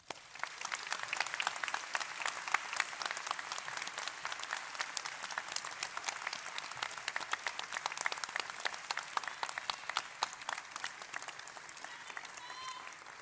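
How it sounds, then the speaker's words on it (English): A large audience at a university graduation ceremony gives a sustained round of applause, dense crisp clapping heard from within the hall, steady and even throughout. "join me in giving a round of applause to all of those who supported us throughout our studies"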